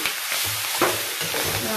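Egg chowmein with vegetables stir-fries in a pan, giving a steady loud hiss of sizzling oil and rhythmic scraping tosses close by.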